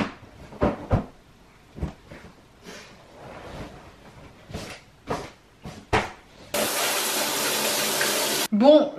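A home shower runs as a dense, steady hiss of spraying water for about two seconds, preceded by scattered bumps and knocks around the bathroom.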